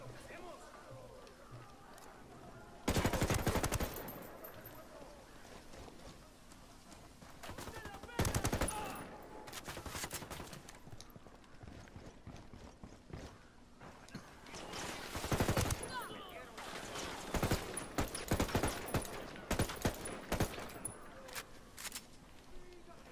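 Bursts of gunfire in the tactical shooter Ghost Recon Wildlands, with several loud volleys and rapid automatic strings spaced across the stretch over a steady game background.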